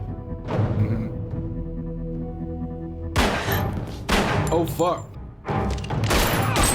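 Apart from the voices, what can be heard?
gunshots in TV show Fringe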